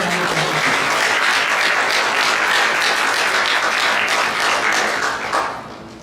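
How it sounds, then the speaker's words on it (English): An audience gives a sustained round of applause for the volunteers of an organization at a live-streamed community event, dense steady clapping that fades out near the end. "Please give them a big round of applause."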